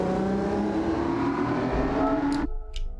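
Toyota GR86 RZ from 2021 in Gran Turismo 7, its engine revving loud and steady with rising pitch for over two seconds, then cutting off abruptly with a brief tail of mechanical noise.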